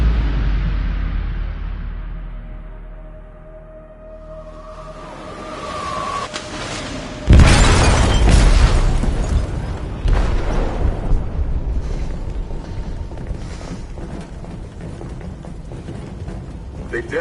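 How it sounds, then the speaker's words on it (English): An explosion in a ship's hold in the video game Detroit Become Human, a sudden heavy boom that breaks over a low rumble and then a rush of debris and noise trailing on, with no voices over it. "They detonated an explosive in the hold."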